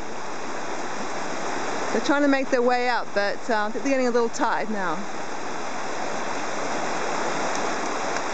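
A river rushes in a constant, broadband wash during a salmon run, the flowing water steady throughout while someone talks over it in the middle.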